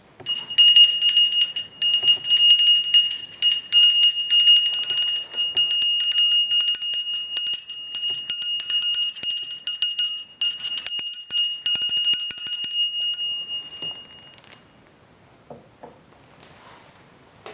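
A bright bell rings rapidly and continuously for a long stretch inside an old Tudor house, then stops abruptly, leaving faint room noise.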